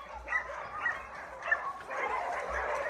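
Dogs at an animal shelter bark and yip in short, scattered bursts at a moderate distance before rain, mixed with whimpering over a soft background hiss.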